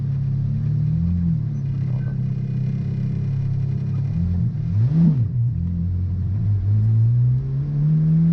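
A Ferrari 430 GT3 Challenge race car pulls away from inside the cockpit, its engine rumbling low and rising through a revving surge midway before settling into a steady, loud drone.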